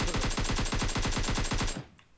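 Rapid automatic gunfire in PUBG Mobile, a steady burst of about twenty evenly spaced loud shots that stops abruptly and leaves a quiet tail.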